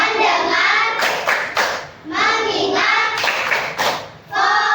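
Children in a classroom clap their hands in a chanted focus routine, bursts of sharp rhythmic claps alternating with sung group chanting of the words.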